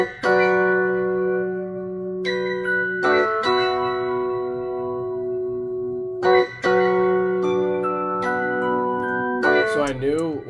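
Sustained soul sample chords on clavinet and Rhodes, processed with EQ and chorus, playing a slow progression of held chords that change every few seconds, loud and upfront with a brief warbling swell at the end.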